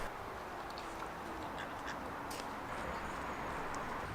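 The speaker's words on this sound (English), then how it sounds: "ducks!" Ducks quack by a river, faint and somewhat distant, over a constant wash of outdoor background noise.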